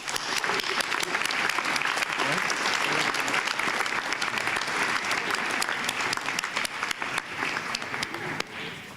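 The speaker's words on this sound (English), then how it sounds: "And now a round of applause for this group of inductees" An audience at a high school National Honor Society induction ceremony applauds the inductees, sustained dense clapping from many people that holds steady throughout and tapers off near the end.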